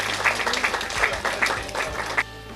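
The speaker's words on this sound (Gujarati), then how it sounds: "તો મેઘા પરમાર માટે જોરદાર તાળીઓ થઈ જાય" Audience applause at a women's awards ceremony for an award winner, a short burst of scattered, uneven clapping at moderate distance over a faint background hum.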